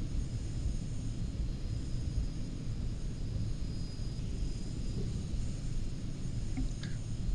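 A Tornado jet cruises in the Falcon 4 Allied Force flight simulator, giving a steady, moderately loud rumbling engine drone throughout, with no speech.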